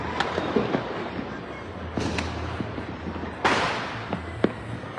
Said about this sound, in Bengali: রাজধানীতে চলছে আতশবাজির ঝমকালো জমজমাট আয়োজন